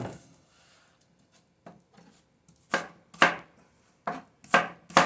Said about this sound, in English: I'm just going to cut up into like 3 slices, and then just, cut it into cubes